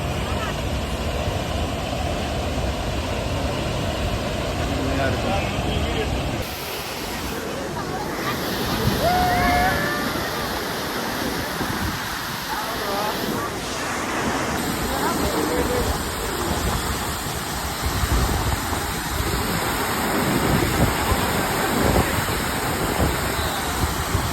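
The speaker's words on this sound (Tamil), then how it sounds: "சவுண்டு கேட்குதா? வந்தாச்சு ஃபால்ஸ்." Waterfall in Kerala, a loud, steady roar of rushing water filling the scene throughout, with voices speaking faintly beneath it.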